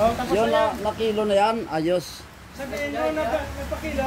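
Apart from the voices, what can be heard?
No everyday noises stand out.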